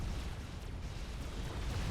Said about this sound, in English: You can watch the nice explosion.